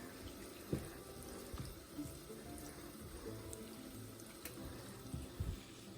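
Water runs steadily from a kitchen tap into a sink, a continuous splashing hiss with a few soft clunks, heard close while a gravy-mix dinner with ground beef is being made.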